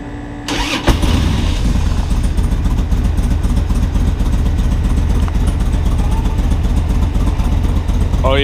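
Motorcycle engine starting up and settling into a steady, loud running rumble close by, continuing without break after a sharp opening burst.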